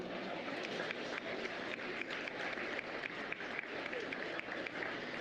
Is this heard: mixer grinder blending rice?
no